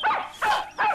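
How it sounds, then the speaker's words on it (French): Three quick, sharp barks from a farm dog nearby, evenly spaced in rapid succession. "mais c'est le chien de la ferme"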